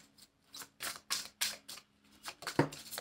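Tarot or oracle cards being shuffled and drawn, a run of crisp papery riffles and slaps in quick bursts, close and fairly quiet, ending with a sharper snap.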